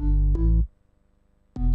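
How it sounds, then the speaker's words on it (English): Korg M1 synth layered over a sub bass in a pop chorus, heard as two loud sustained chords with a dense low end, separated by a brief near-silent gap before the layered sound returns. "So that's the M1 on top of the sub bass."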